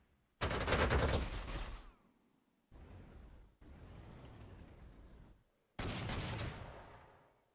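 Panzer Corps 2 artillery fire rings out as four separate booming salvos, the first and last loudest and sharpest, the middle two softer rumbling rolls, separated by short silences.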